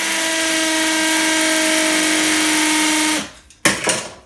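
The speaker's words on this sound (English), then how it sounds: "I'm going to be drilling through with this drill" A power drill runs steadily as it bores through pre-drilled holes in new scaffold planks meant for shelves, a loud continuous whine lasting about three seconds before winding down, followed by a short burst of clattering handling noise.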